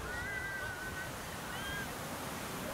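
Surf at Reynisfjara black-sand beach in Iceland, a steady broad wash of breaking waves with wind across the microphone throughout, faint gull-like cries above it.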